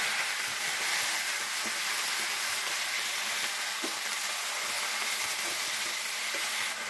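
Jarung greens with dried chili and ginger fry in hot oil, giving a steady, close sizzle with faint crackles and occasional stirring scrapes, no voices.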